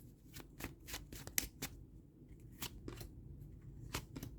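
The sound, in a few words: shuffling and pulling tarot cards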